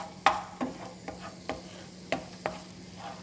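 Garlic and coriander heat in a pan for Arabic molokhia, with a spoon scraping and tapping in irregular knocks over a faint steady sizzle, close and fairly quiet.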